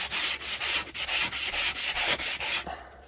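Wood filler on an Airstream trailer floor is sanded by hand with coarse 80-grit paper: about ten rhythmic, close, raspy back-and-forth strokes that stop abruptly at the end.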